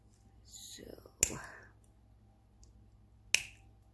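Metal snips cut through fabric for earring tag components, giving two sharp, isolated snaps about two seconds apart, near and fairly quiet, with soft rustling of the material before the first cut.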